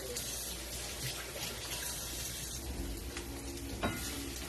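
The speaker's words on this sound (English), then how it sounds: "Stir this up." Pineapple and other BBQ flatbread ingredients being stirred in a sizzling pan, a soft steady frying hiss with faint scraping, fairly quiet and without speech.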